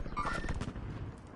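A single sharp gunshot bursts in a video game shootout, loud and close, with a short rumbling tail fading over about a second.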